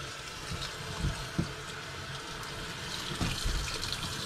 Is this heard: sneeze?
no